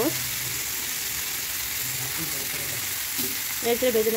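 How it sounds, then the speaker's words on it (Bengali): Sliced onions sizzle and fry in a hot pan for a Bengali dish, a steady broadband hiss with soft stirring scrapes and a few brief clinks near the end, close and moderately loud. "পেঁয়াজগুলি দিয়ে দেওয়ার পর কিছুটা নেড়ে চেড়ে ভেজে নেবো।"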